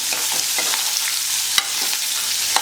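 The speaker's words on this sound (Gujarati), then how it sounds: "મરચાં ઉમેર્યા પછી આપણે ઓનિયનને સાંતળી લેવાની છે." Onions sizzle and fry in a pan for a Gujarati tomato and green pea winter curry, a steady bright hiss with occasional stirring scrapes and one sharp clack near the middle, no voices.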